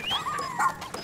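A dog whimpers in the Pikmin 4 video game, giving short high whines and yips that slide up and down in pitch over about a second, fairly close and with no talk.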